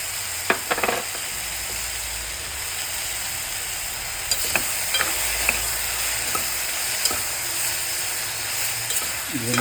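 Radish stir-frying in a hot pan for a radish saaru, a steady bright sizzle with occasional clicks and scrapes of a spoon stirring, no talking.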